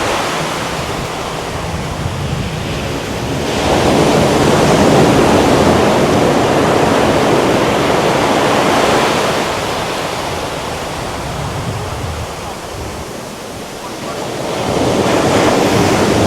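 Ocean waves break on Someshwara Beach near Mangalore at sunset. The surf roars loud and close in broad, hissing surges that swell and recede, with some wind noise over the microphone and no voices.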